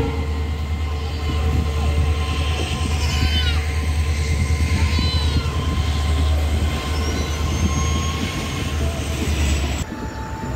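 The 15813 Dekargaon-Murkongselek Express pulls out of Silapathar station with a steady, close, low rumble of rolling stock, and thin wheel squeals rise and fade above it throughout.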